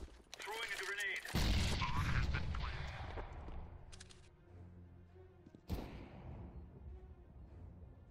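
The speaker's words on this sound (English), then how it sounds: "Throwing a grenade." In Counter-Strike: Global Offensive, a thrown grenade goes off with a loud close blast that rumbles and fades, followed a few seconds later by a second sharp bang, with muffled game sounds in between.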